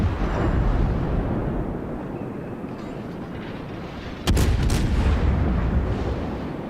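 Heavy warship naval guns boom in a World of Warships sea battle, a deep continuous rumble broken by one loud, sharp salvo about two-thirds through, with no voices.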